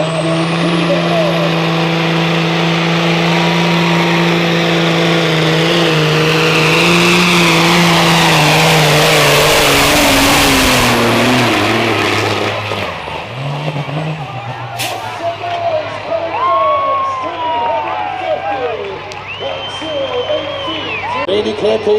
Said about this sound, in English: Cheer him on, ladies and gentlemen, the famous Cabin Fever tractor, driven by Wilco Van Loor.